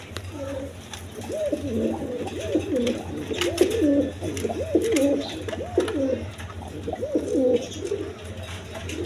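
A pair of Mosaldom pigeons coo repeatedly in soft, rhythmic rounds, close and fairly quiet over a low steady hum.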